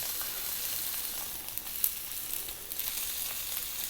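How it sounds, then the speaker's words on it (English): Fat on the edge of a sirloin steak sizzles as it is held against a hot pan, a steady close hiss with light crackles, fairly quiet and with no talking. "What I like to do now is just hold it up and hold it on there like that and cook it"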